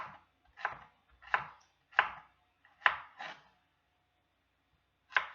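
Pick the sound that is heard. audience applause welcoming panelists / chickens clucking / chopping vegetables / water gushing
chopping vegetables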